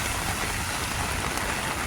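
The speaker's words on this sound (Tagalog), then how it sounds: "lakas-lakas ng ulan" Heavy rain pours down steadily, a dense, loud hiss of drops hitting surfaces nearby, unbroken and without voices.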